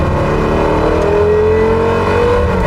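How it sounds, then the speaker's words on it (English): A loud Porsche Carrera GT engine accelerating hard, its revving pitch climbing steadily, heard close up from inside the car. "You can hear everything that goes on in the engine, you hear the gear changes"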